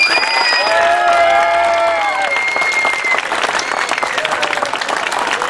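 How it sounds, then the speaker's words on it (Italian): A crowd claps at a prize event in sustained, loud applause that holds steady throughout, with a few voices and brief cheers rising over it in the opening seconds. "un applauso per loro"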